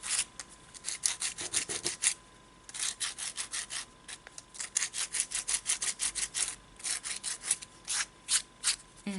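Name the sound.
sandpaper smoothing edges of air dry clay jewelry dish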